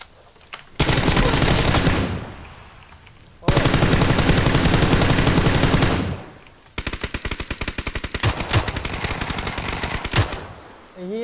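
Automatic gunfire in PUBG, with two long sustained bursts followed by a rapid, rattling stream of shots, loud and close with brief gaps between volleys.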